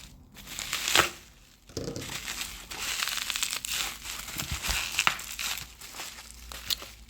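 A clear plastic-wrapped package is torn open by hand, giving close, continuous crinkling and crackling with a few sharper rips throughout.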